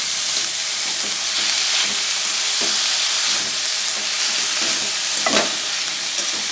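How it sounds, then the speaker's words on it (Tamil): Amaranth greens with onion and green chilli sauté in a hot pan, a loud, dense, continuous sizzle close up, with occasional soft stirring scrapes breaking through and no voices. "கீரையை நல்லா சேர்த்து அதை நல்லா அது கூட வெங்காயம் பச்சை மிளகாய் கூட நல்லா மிக்ஸ் ஆகி நல்லா வதக்கி விடணும்"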